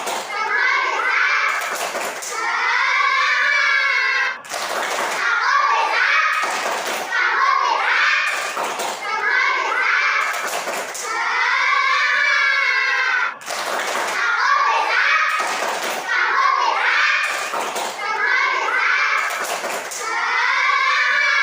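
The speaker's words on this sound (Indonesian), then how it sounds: "Karena kalian udah tepuk-tepuk ya, tepuk semangat" Schoolchildren in a classroom do a rhythmic spirit-clapping routine, sharp group claps landing in repeated bursts while young voices chant along loudly throughout.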